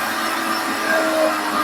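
A NuWave Moxie 2.5 hp vacuum blender whirs with a steady motor drone that rises slightly as its speed is stepped up from a low manual setting, with no talking.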